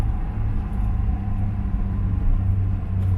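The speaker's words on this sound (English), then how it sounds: "So that's double clutching going up." A car engine rumbling low and steady from inside the cabin during a double-clutch upshift from second to third gear, with slight swells in the drone and no talking.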